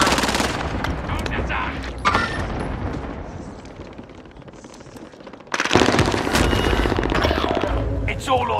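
Heavy gunfire in a video game battle, loud bursts of automatic fire and shots with chaotic combat noise, easing in the middle then surging again near the end, with voices talking over it.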